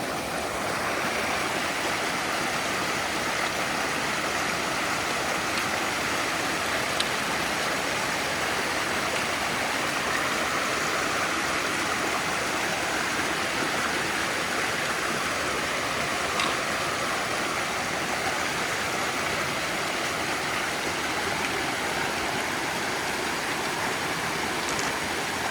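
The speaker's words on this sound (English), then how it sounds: "Trying to cross the Rattle River here." The Rattle River, a stream crossed on the Appalachian Trail near the White Mountains, rushes in a steady, close, continuous hiss and gurgle of flowing water with no voices.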